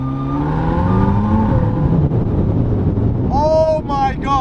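An open-top McLaren supercar at low speed, a $2.5 million limited model with no roof, hums along under heavy wind buffeting in the cabin, and a voice exclaims briefly near the end.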